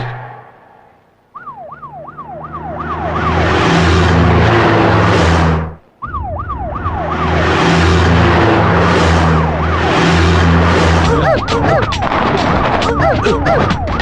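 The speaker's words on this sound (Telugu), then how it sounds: "ఏంటి ఆ సౌండ్? సైరన్ సౌండ్ అండి." A wailing car siren in a Telugu film scene cycles up and down loudly, cuts out briefly and starts again, layered with heavy engine rumble and background music.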